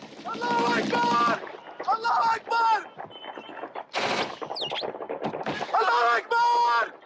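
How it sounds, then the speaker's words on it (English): Bursts of rapid machine-gun fire mixed with shouting voices and a loud rocket launcher blast as militants shoot down a helicopter, chaotic and close. "that was actual audio of militants taking a rocket launcher and shooting down a real helicopter"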